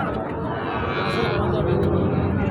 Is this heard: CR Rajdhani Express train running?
no